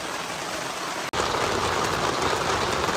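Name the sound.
heavy rain falling on a campsite awning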